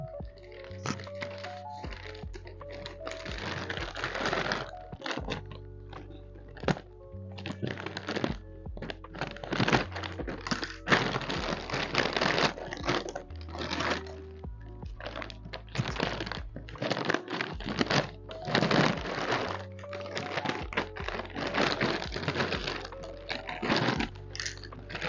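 Nylon packaging around human hair bundles being cut open, with crinkly crackling and plastic rustling bursts repeating through the stretch, fairly close and alone without talk.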